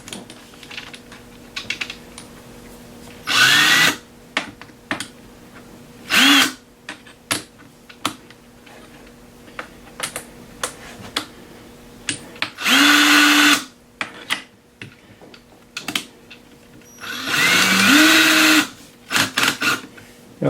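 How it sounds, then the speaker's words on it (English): A power drill driving a brass case trimmer whirs in several short bursts, separated by clicking, tapping and handling noises, loud and close. "I use the world's finest trimmer, which is this one right here, and it goes on a drill"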